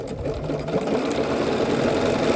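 A sewing machine zigzag stitches around a swimsuit neckline at a quarter inch, a close, steady whirring rattle throughout the short stretch.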